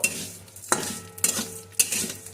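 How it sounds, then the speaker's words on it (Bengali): Vermicelli stirred in ghee in a pan, with three distinct scraping sweeps of a spoon over a light sizzle, close by. "যাতে ঘিটা ভালোভাবে মিশে যায় নাড়িয়ে নিয়েছি"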